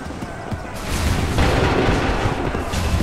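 Musket volleys and booming gunfire from the video game Assassin's Creed 3 rumble across a battlefield, a sharp burst followed by a sustained, loud roll of shots.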